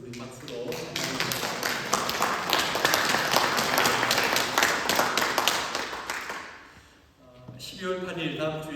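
A church congregation at a Korean Sunday worship service breaks into loud, sustained applause that runs for about six seconds and then dies away, after which a pastor resumes speaking.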